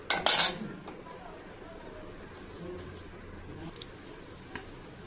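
A spoon stirs prawns in a pan after water has been added, starting with a burst of clattering metal scrapes and then settling into a low simmer with a couple of faint clinks.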